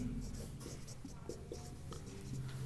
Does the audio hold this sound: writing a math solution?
yes